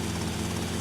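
Helicopter engine in a flight video game, a steady low rotor-and-turbine drone that holds level for under a second, continuous and moderately loud with no talk.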